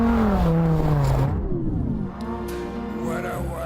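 Lamborghini Gallardo LP560-4 V10 engine revving loud and close as the supercar slides on snow and ice, pitch swooping up and down through sustained gear-held surges with no talk.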